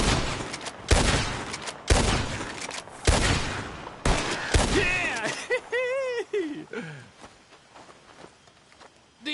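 Gunshots ring out in a Red Dead Redemption 2 shooting contest, several loud sharp cracks spaced about a second apart, followed by fainter clatter and a whistling, warbling tone.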